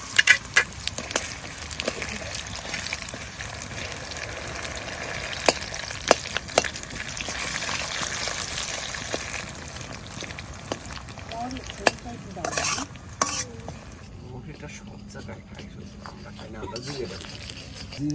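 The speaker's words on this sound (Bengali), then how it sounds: "তেল গরম হয়ে গেছে, দিয়ে দেবো ফোড়নে দেবো শুধু মৌরি, এবার দিয়ে দেবো গুড়, আখের গুড়।" Fennel seeds and cane jaggery hit hot oil for a chalta pickle, giving a close, crackling sizzle with stirring scrapes, mostly under a person talking.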